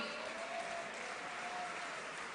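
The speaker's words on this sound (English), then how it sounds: "how about another round of applause for our President, Dr. Haroon Durrani?" A convention audience gives sustained applause for its president, a faint, even roar of many hands clapping with a thin tonal hum running beneath.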